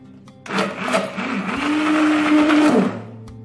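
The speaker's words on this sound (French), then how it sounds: "je vais venir mixer ma préparation pour qu'elle soit bien lisse" A blender whirs loudly and steadily for about two and a half seconds, mixing a chocolate mousse preparation until smooth, its motor pitch rising slightly as it spins up before cutting off.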